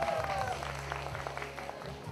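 Audience applause greets a jury member being introduced at a talent show, steady mid-level clapping heard under a host's voice and a low musical hum.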